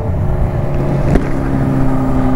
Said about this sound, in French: le son, ça participe vraiment à l'impression de puissance parce que la violence du bruit fait que tu as la moto qui tremble à cause du pot